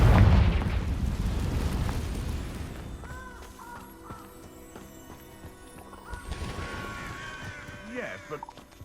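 A Confringo blasting spell explodes in Hogwarts Legacy with a loud, booming burst at the start that rumbles and fades into lighter in-game sounds.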